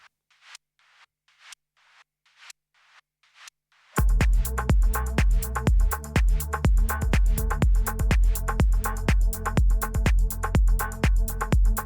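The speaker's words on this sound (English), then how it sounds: "it's kind of like a manipulated sort of white noise sound" About eight short, airy bursts of manipulated white-noise hissing repeat in a steady rhythm in a melodic house track, then a loud full beat with a heavy kick drum enters and carries them along.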